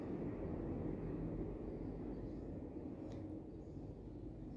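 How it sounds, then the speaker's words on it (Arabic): A low, steady airplane roar rumbles overhead, broad and droning, slowly easing off over a few seconds. "طيارة قريبة قوي"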